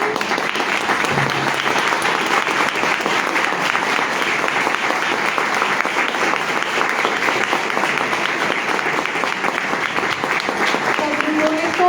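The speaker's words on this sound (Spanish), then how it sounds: "Un aplauso para María Fernanda Carrascal" Sustained audience applause at a book launch, steady and dense for the full twelve seconds, a room full of clapping hands with a faint murmur of voices beneath.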